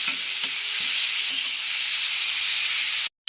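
Chicken adobo sizzles loudly and continuously in sautéed oil as it is stirred, a steady frying hiss with a few soft scraping stirs early on and a brief cut near the end.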